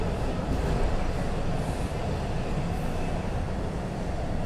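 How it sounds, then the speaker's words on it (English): A DC Metro 600 series train passes close by, a loud continuous rumbling roar of wheels on track that holds steady for several seconds with no voices. "Here we are, 600 series train."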